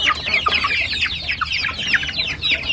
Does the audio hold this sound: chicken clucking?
yes